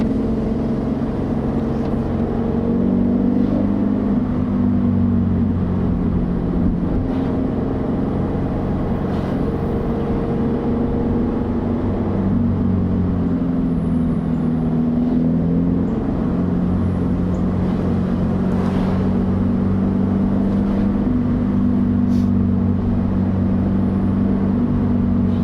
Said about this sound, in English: Car exhaust can really make a car a lot more fun.